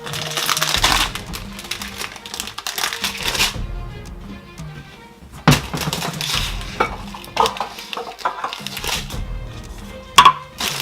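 Ingredients for a flaxseed gel hair conditioner being put into a pot, with clattering, scraping and stirring of utensils against the pot in irregular bursts, no talking.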